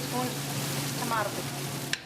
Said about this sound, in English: Now turn on the heat and just start frying the onions.